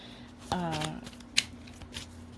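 Tarot cards being shuffled by hand: a quick riffling burst, a sharp snap and softer card rustles, with a brief voiced sound in the background.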